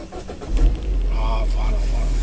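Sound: car engine starting

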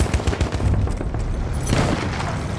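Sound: Lewis gun machine gun fire in a video game

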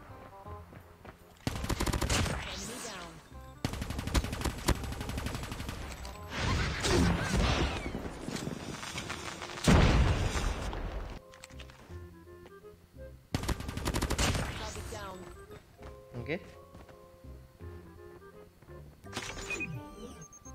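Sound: SMG gunfire in a video game

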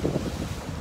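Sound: strong typhoon wind

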